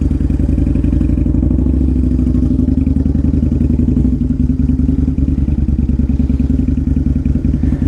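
The Porsche-designed engine of a 2003 Harley-Davidson V-Rod motorcycle runs loud and close with a steady, pulsing throb and a mechanical clatter during a test drive, holding a fairly even pace without sharp revving.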